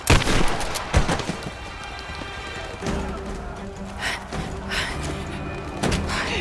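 Shotgun blasts ring out in the video game Rise of the Tomb Raider, a few sharp booming shots over an ongoing wash of gunfire and combat noise.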